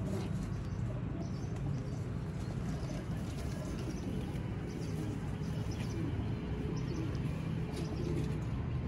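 Pigeons coo softly at a Sialkot pigeon keeper's loft, a low murmur under steady background noise with faint chirps and no talking.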